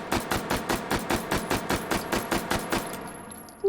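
Fifteen rounds of 9x19 from an H&K MP5K fired in semi-auto in the H3VR video game, a fast, even string of sharp reports over a steady hum, ending with a brief metallic tone.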